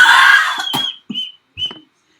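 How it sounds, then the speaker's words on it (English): Someone whistles in a high, thin tone, starting with a brief sustained note and then two short separate chirps, close and fairly loud against a quiet background. "It's a whistle."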